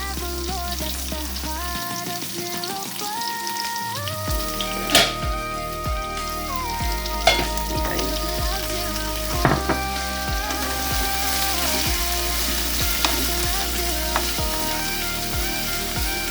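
Carrots and broccoli stir-frying in a pan, a loud, constant sizzle broken by the clatter and scrape of a spatula, with sharper knocks here and there and no talking.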